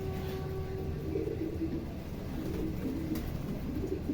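Pigeons coo softly under a steady background hum, the low throaty calls repeating in short rolling phrases at a moderate distance.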